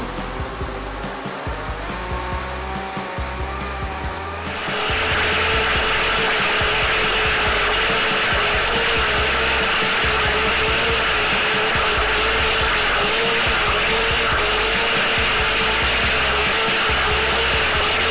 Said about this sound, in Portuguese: Vamos levar para bater no liquidificador por 5 minutos